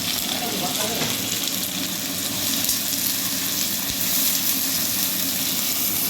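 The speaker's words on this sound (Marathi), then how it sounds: "तेल चांगलं तापलंय त्यामुळे लसूण लगेच फ्राय झालाय. कांदा चांगला उभा उभा केलाय मी." Sliced onion and garlic fry in well-heated oil, giving a dense, loud, continuous sizzle with faint stirring underneath and no break.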